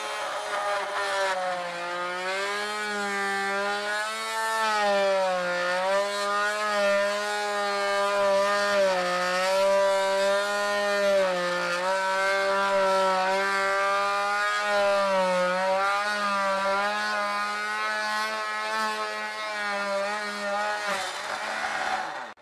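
A power tool cuts a rectangle in drywall for an electrical box, giving a steady, close, wavering high-pitched whine that runs continuously and stops abruptly at the end.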